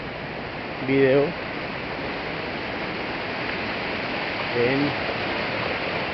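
The Meléndez river rushes steadily at an aqueduct intake, a loud, broad, constant roar of flowing water close by, with someone speaking briefly over it twice.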